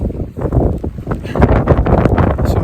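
Strong wind buffets a mountain wild camp near Ffynnon Lloer in the Ogwen Valley, a loud, rumbling, gusting roar close to the microphone that surges and eases without pause.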